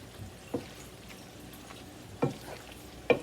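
A creamy fajita pasta sauce of cream, tomatoes, cheese, onions and garlic being stirred, low bubbling under a few distinct spoon scrapes and clacks against the pan, with two sharper knocks at the end; no speech.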